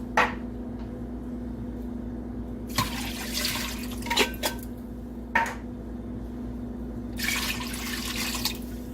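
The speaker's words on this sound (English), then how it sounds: "what I'm about to add to this pot right here is I'm about to add in my 4 cans of chicken broth" Liquid from cans of chicken broth splashes into a cooking pot in a few short bursts, close and fairly quiet, with gaps between pours.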